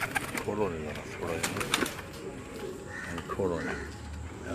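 Pigeons cooing inside a home loft, soft repeated coos and bird calls sounding close, mixed with people talking over them throughout.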